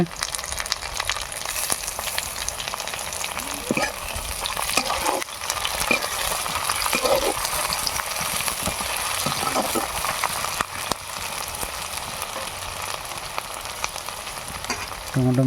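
Green chilies go into puti fish curry frying in a pan during a rural-style cook, giving a steady sizzle with stirring scrapes and occasional clinks throughout.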